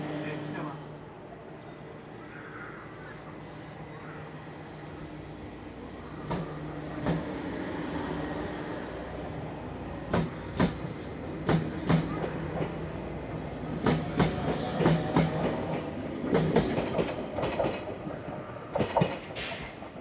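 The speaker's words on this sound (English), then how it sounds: "let's go see off the train." A train pulling out of Wakayama station in Japan, heard from the platform as a steady rumble with rhythmic clicks of wheels over rail joints that grow denser as it picks up speed.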